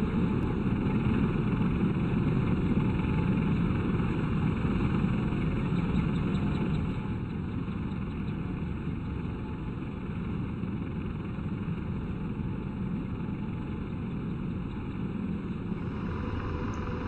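Simulated AH-64D Apache helicopter in DCS, a steady droning engine and rotor hum with constant whine, moderately quiet and unchanging, easing slightly lower partway through.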